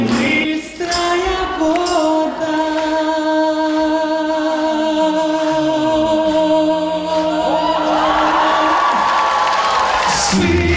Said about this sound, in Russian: Бурные аплодисменты, награды музыкантам за талант и прекрасное исполнение.